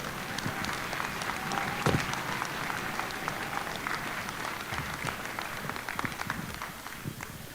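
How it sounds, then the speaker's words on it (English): A pops concert audience claps for the event's sponsors, a dense, continuous patter of many hands at moderate, fairly distant level, with no talk. "give a great round of applause for all of our pop sponsors"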